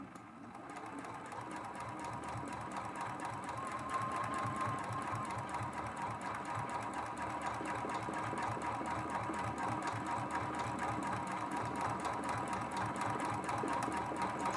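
A sewing machine runs steadily during free motion quilting, a fast, even mechanical stitching rhythm with a motor hum, close and continuous throughout without pause.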